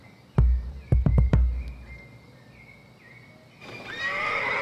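A horse neighs loudly with a sharp whinny, then a quick run of loud knocks or hoof sounds follows, and a soft hiss rises toward the end.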